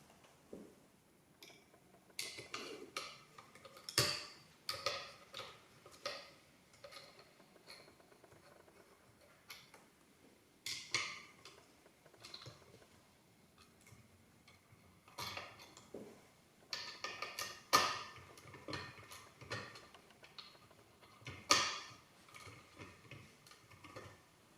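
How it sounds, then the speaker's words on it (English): A screwdriver loosens two screws on the lens of a halogen strobe static flash beacon, giving sparse, close metallic clicks, ticks and scraping taps in irregular bursts with quiet gaps between them. "This is done by unscrewing these two screws."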